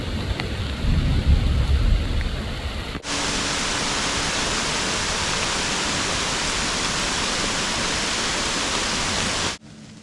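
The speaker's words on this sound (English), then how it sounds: "That was one of them extremely localized thunderstorms" A sudden, very localized thunderstorm outdoors during a deer hunt: a deep thunder rumble gives way to loud, steady rain pouring down for several seconds before cutting off, with no talking.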